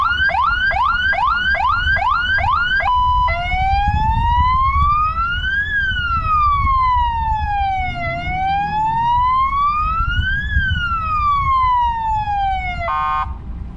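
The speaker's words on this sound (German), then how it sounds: "Einmal Sirene." Fire truck siren at a Mustang car event, starting with a quick repeating yelp and then switching to a loud, slow wail that rises and falls in long sweeps before a short burst at the end, with engine rumble underneath.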